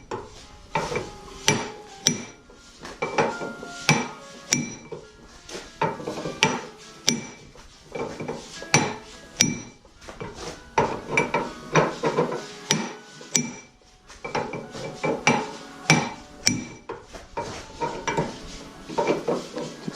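A hammer and punch drive out the lower ball joint on a 2004 Honda Accord, repeated sharp metallic strikes in uneven bursts with brief pauses, close and clear with no talk.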